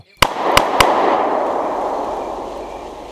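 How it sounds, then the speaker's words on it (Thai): An explosion sound effect opens with a sharp bang, followed by two more quick cracking bursts, then a loud roaring rush of fire that slowly fades over the following seconds. "ท่ามกลางเสียงไฟไหม้ และระเบิดปะทุเปรี้ยปละ"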